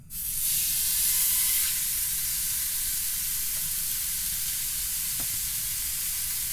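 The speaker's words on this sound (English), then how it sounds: "lay it in there and listen to that sizzle" A chuck roast hits a hot cast iron pan with a sudden loud sizzle that settles into a steady, close crackling hiss, with a few small pops.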